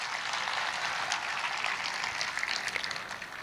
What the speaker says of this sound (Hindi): अब ताली बजाओ, निरोग हो गए सब।